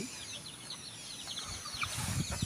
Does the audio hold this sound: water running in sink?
no